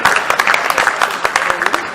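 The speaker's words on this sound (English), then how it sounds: "You can clap it aloud." A scattered round of applause from a modest conference audience in Nigeria, individual claps distinct and irregular, moderately close.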